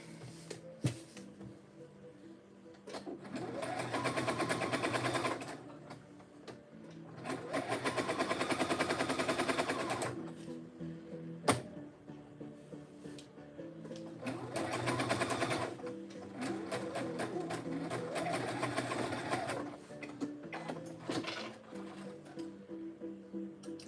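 A domestic sewing machine stitching a pocket on a cosplay garment made from a Simplicity 9835 pattern: quiet runs of rapid mechanical whirring in several bursts of a few seconds each, separated by pauses with small clicks.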